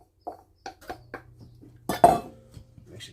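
Broccoli is stirred into browned beef in a pan, with a series of scraping and clinking utensil knocks against the pan, close and fairly loud, over a low background hum.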